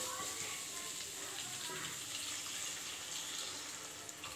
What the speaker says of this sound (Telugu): మిక్స్ చేసుకున్న తర్వాత వాటర్ పోసుకోవాలి.